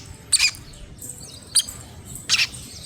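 Small birds chirp near a nest in three short, sharp bursts, fairly close and otherwise alone over a quiet outdoor background.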